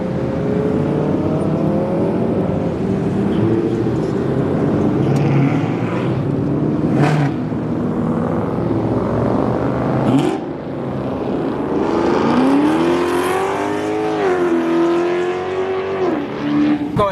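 Several cars rev hard and pull away at a car meet, engine notes rising and falling continuously across the stretch, loud and close with a few sharp bursts of acceleration.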